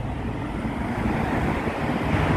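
Steady wind rushes and buffets the microphone outdoors at night in Khobar, Saudi Arabia, a continuous broadband roar with no voices.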